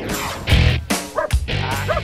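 A German Shepherd barks loudly and close during a protection evaluation, giving a few sharp, repeated barks mixed with whiny yips over a busy background.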